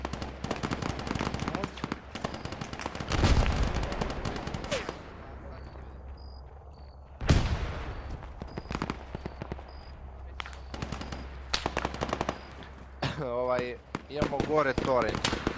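Gunfire in the military video game Arma 3, with repeated sharp bursts and single shots at close and middle distance, interspersed with electronic beeps and game sounds while players talk over a voice channel.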